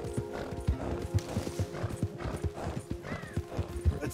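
Horse hooves clip-clop in a brisk, regular rhythm in the video game Red Dead Redemption 2. Each beat is close and distinct, with a faint whinny partway through.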